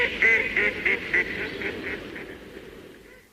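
Duck quacking on a children's farmyard record, a quick run of nasal, honking quacks that fade toward the end, heard alone without talk.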